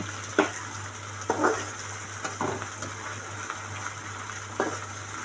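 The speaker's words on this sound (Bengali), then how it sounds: "মরিচটা একটু পেঁয়াজের সাথে ভেজে নেব।" Chili and onion fry in a pan for a chela fish chorchori, a quiet steady sizzle broken by several scraping stirs of a spatula against the pan.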